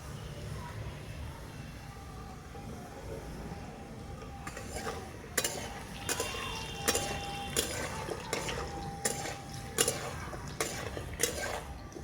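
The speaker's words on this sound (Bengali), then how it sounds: "এই জিরা দিয়ে দিলাম, দিয়ে একটু ভেজে নেবো" Cumin seeds and bay leaf frying in oil in a pan, a faint quiet sizzle that shifts to clinks and scrapes of a utensil against the pan in the second half.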